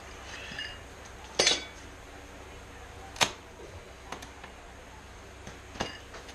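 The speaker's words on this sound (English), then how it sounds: "I'm just taking my little framing square and my carpet knife" Carpet knife cutting vinyl flooring plank, a few short sharp scoring swipes and snaps spaced several seconds apart, close and fairly quiet in a room.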